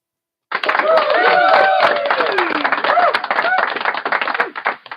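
A burst of hand clapping, close and continuous for several seconds, sharp irregular claps fading toward the end, with a voice briefly audible over it.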